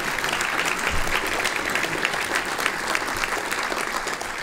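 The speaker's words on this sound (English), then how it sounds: "you need to give her a round of applause for what she's put up with." A hall of fame awards audience at a broadcasters' ceremony gives a steady round of applause, dense clapping held at an even level throughout with no voices on top.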